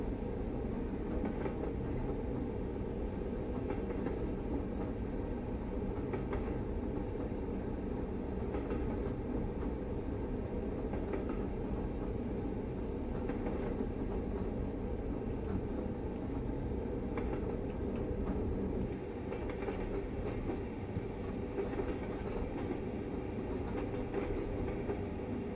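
A Class 09 diesel shunting locomotive on the West Somerset line in Train Sim World runs steadily under light throttle, a continuous low engine drone with faint rail clatter, alone and without talk.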